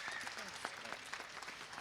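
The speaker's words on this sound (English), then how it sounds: "An applause for Let's Joke." Applause from an audience at a tech event in a hall, a steady wash of clapping hands at moderate level with scattered louder claps, no voices standing out.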